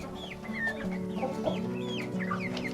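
Hens cluck and murmur near their feeders in a close, continuous chorus of short clucks and soft calls, with a low background hum.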